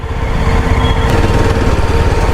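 Yezdi Scrambler motorcycle engine dropping from third to second gear in city traffic, a steady, loud, buzzing drone held close throughout with no speech.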